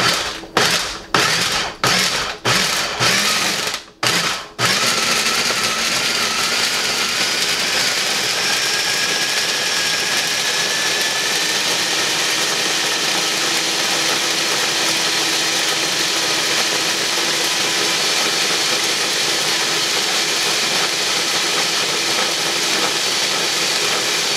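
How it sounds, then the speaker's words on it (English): A household blender attacks an E30, starting with a quick series of hard thumps and rattles, then settling into a loud, steady roaring whir that runs on unchanged. "you wanted to see if the E30 would blend, so here we go"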